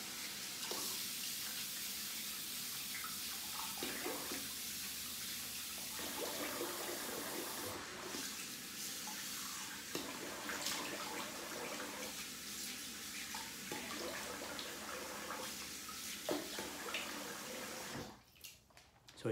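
Tap water running steadily into a sink while someone rinses their face after a shave, a faint continuous hiss and splash with soft bursts of splashing over about twenty seconds, cutting off near the end.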